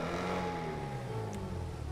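The Ocelot XA21 supercar in GTA Online idles and revs with a smooth, steady engine hum, pitch slowly falling over two seconds, sitting close and fairly quiet with no talk.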